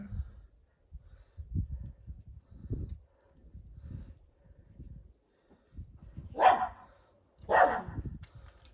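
A dog barks twice, sharp and fairly close, after a stretch of low rumbling movement and muffled thumps.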